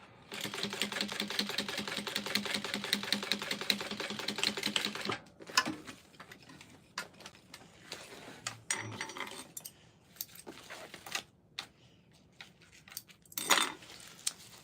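A sewing machine stitches a fabric shoulder bag. A rapid, steady mechanical clatter runs for about five seconds, then gives way to quieter, intermittent clicks and handling noises at close range.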